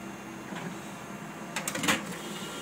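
A Kyocera TASKalfa 1801 copier prints on A4 plain paper. A low mechanical whir runs throughout, and a brief cluster of clacks and a feed rattle comes near the end.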